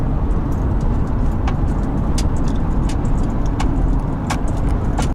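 Steady road roar from inside a car cruising a long straight highway behind a bus, with continuous low tire and engine noise and a few faint light clicks, no radio and no talking.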